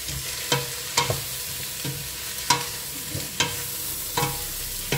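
Lentil soup ingredients sautéing in a pan, a quiet steady sizzle broken by regular scraping strokes of a utensil every second or so, no voices.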